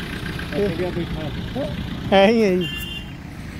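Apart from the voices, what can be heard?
homemade Farmtrac 35 mini tractor engine running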